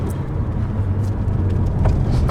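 A Porsche 911 ST race car engine drones steadily from inside the vehicle while driving, a low continuous rumble with faint road noise.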